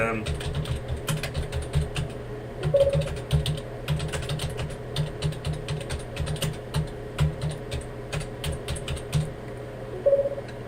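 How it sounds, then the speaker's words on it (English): Rapid clicking of computer keys in uneven bursts, close and clear, with a low steady hum underneath and brief pauses between runs of keystrokes. "oh, typing"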